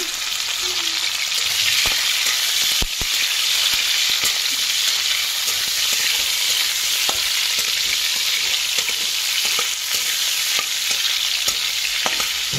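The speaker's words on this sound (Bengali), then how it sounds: "এবার এটাকে একটুখানি ভালো করে করবো ফার্স্টে ফ্রাই" Small chicken pieces fry in hot oil in a kadai with a loud, constant sizzle, broken by sharp clicks and scrapes from stirring scattered throughout.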